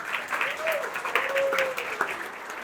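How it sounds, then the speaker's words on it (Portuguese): An audience at an organizational culture talk claps to welcome a speaker onto the stage, a brief burst of mid-distance applause with a faint voice in the background. "Recebam com uma salva de palmas"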